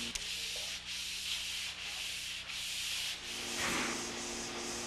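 Traditional pole sanding of drywall gives a continuous scratchy rasp in long back-and-forth strokes with brief dips between passes, close and steady with no voices.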